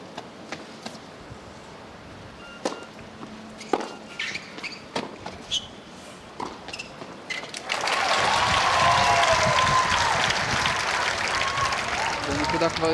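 Tennis spectators at the 2008 Israel Open final burst into loud sustained applause and cheering after several seconds of quieter crowd rustle and scattered claps, a dense wash of clapping filling the rest of the moment.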